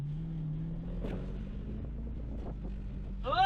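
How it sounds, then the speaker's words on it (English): A car sliding sideways in a drift, its engine holding a steady low drone throughout with brief scuffing bursts, then rising into a louder rev at the end. "let's see how this thing can go sideways"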